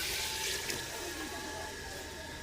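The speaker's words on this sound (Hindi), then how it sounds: "पहले हम 1 लीटर पानी डालेंगे इसमें" About one litre of water pours steadily into a cooking pot for chicken nihari, a continuous splashing rush that slowly softens as the pot fills.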